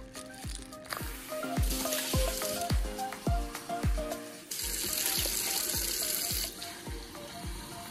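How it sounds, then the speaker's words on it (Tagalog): Tap water runs into a pot for beef bulalo soup, a continuous splashing stream with rhythmic knocking or clanking from the pot and a rise in rushing intensity midway, with no voices. "maglagay muna tayo ng tubig dito guys na galing sa gripo"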